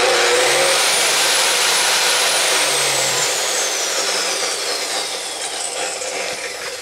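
A DeWalt chop saw driven through a router speed controller runs at full speed with a loud, steady high-pitched motor whine and a rising then falling tone, close and continuous, with no talk.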